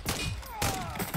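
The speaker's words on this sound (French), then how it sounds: "Je me fais tirer dessus" Rapid bursts of enemy gunfire in Call of Duty zombie mode, loud and close, with a quick series of crackling shots over a dense game soundscape.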